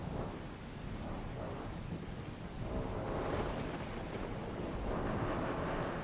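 Heavy rain falls in Keshod, a steady roar of downpour on surfaces. Deep rolling thunder swells beneath it in slow waves, fairly faint and distant, with no voices.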